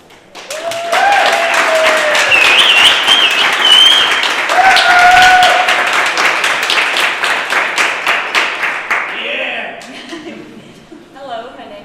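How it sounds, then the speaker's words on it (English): Audience applause at a startup pitch event, close and lively clapping that swells quickly, holds steady, then thins into scattered claps as it fades, with a few voices and brief talk mixed in. "So let's give applause to Ieva."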